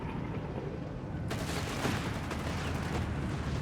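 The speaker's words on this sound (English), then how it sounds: "Panzer III there, fine on the field, striking an American forces of the 3rd Infantry Division, letting loose with its 50mm gun and its coaxial machine gun" Panzer III tank firing its 50mm main gun alongside coaxial and hull machine guns in Company of Heroes 3, a dense, continuous burst of battlefield gunfire that swells sharply after a quieter opening rumble.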